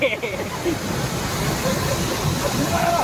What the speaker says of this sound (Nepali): यहाँ झरना।